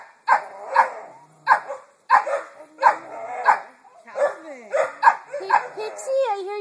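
A small dog barks repeatedly in sharp, evenly spaced yaps, close and loud, with a couple of higher whiny yips toward the end.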